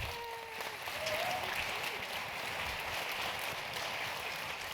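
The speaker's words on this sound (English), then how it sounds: "let's give a big round of applause" Audience applause at a vendor panel event, steady dense clapping filling the room throughout, moderately loud with no talk over it.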